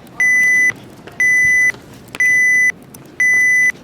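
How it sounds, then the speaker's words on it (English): A smoke detector going off sounds four loud, shrill electronic beeps in a steady rhythm, each about half a second long with equal pauses between, over faint background rumble. "that's the second smoke detector that you witnessed that was going off"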